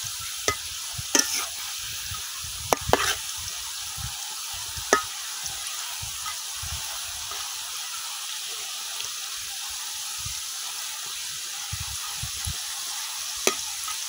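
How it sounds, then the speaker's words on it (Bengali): Muruli, the Netrokona angul snack, fries in hot oil with a steady soft sizzle, broken by several sharp clicks and taps of a utensil turning the pieces, close by and with no voices. "এখন আমি এগুলো কিছুক্ষণ উল্টায় পাল্টায় ভাজা নেব"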